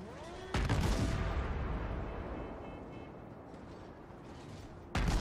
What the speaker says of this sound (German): Colorado schießt auf uns und unser Team hoffentlich gleich auf sie auch.